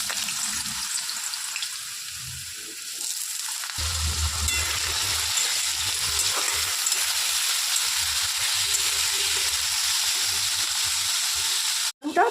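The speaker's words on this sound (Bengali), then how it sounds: "আলুটাকে ভেজে নেব।" Potatoes sizzle and crackle in hot oil in a pan for a vegetarian aloo paneer dish, a loud steady frying hiss with occasional stirring and low kitchen noises underneath.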